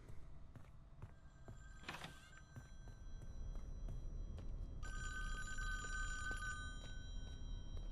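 A telephone in a virtual cabin in the Friday the 13th video game rings in one clear electronic bell burst, heard amid quiet room ambience with a brief rattle and scattered knocks beforehand.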